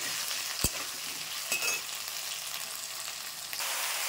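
A vegetarian spinach (palong shak) dish for an Ekadashi fast fries in a pan, giving a close, steady hissing sizzle with a couple of faint clinks and stirring touches. No one speaks.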